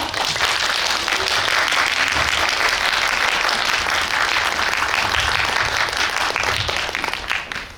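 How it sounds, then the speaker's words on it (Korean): A large cinema audience at a film screening Q&A applauds continuously and loudly, a dense wash of clapping that holds steady before tapering slightly at the end. "두 분을 큰 박수로 맞이해 주시기 바랍니다"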